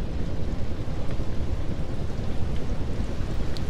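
A violent storm wall in the airship game Worlds Adrift, with a loud, unbroken roar of wind and rain and deep rumbling, thunder-like swells filling the air with no voices.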